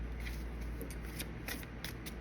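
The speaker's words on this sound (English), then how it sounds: "I automatically shuffled" A deck of cards is shuffled in a quiet room, giving a series of soft, brief riffling bursts at irregular intervals over a low steady hum.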